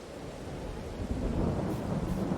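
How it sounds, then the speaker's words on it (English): Steady in-game rain from Farming Simulator 22 rushes as a broad, continuous wash with a low rumble beneath, alone and moderately loud throughout. "The reason I did this now is because it is raining."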